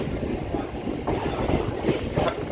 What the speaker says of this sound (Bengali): অবশেষে ট্রেন ছাড়লো